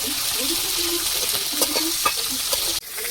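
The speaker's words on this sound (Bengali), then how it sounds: "হয়ে গেছে মাছ ভাজা" Four pieces of rohu fish frying in oil, a loud continuous sizzle with scattered crackles and faint stirring, ending in a sudden brief drop and knock near the end.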